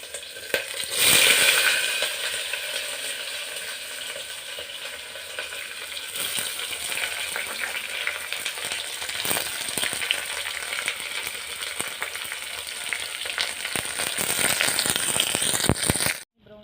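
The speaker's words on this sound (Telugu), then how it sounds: "బ్రౌన్ కలర్ వచ్చేంత వరకు వేయించుకోవాలి." Chopped onion and green chili frying in hot oil for a vegetable pulao, a steady close crackling sizzle with occasional stirring scrapes, loudest in the first seconds and again near the end before stopping abruptly.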